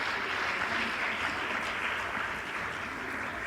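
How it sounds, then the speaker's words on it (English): A round of applause for a moot court board fills a law school lecture hall, a steady dense patter of many hands clapping at once, sustained and even throughout without letting up. "the Moot Court Board deserves another round of applause"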